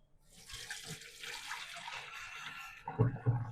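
Tap water runs steadily into a sink while potatoes are washed, a close hissing stream, followed by a few soft knocks and splashes near the end.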